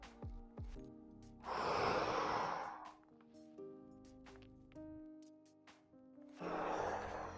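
Deep, audible breaths during a guided stretching routine: two long airy exhales and inhales, each lasting about a second and a half, close and breathy, separated by quieter pauses with faint background tones.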